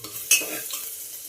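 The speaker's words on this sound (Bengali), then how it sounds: "যতক্ষণ রসুনের কাঁচা গন্ধটা না যায় ততক্ষণ একটু ভেজে নিতে হবে" Grated garlic stirred into hot mustard oil in a pressure cooker, one sharp scrape of the spoon over a soft, steady sizzle, close by, no voices.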